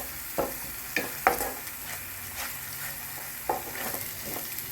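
Ginger garlic paste frying in a pan for a spicy mutton bone paya, a soft continuous sizzle with scattered light spatula taps and stirring knocks, close and unaccompanied by talk.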